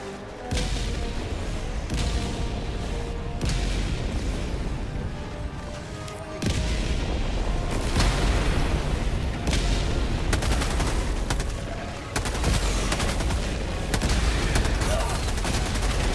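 Orbital strike explosions and gunfire in the video game Helldivers: a loud, sustained barrage of repeated booms and rapid shots with heavy low rumbles throughout.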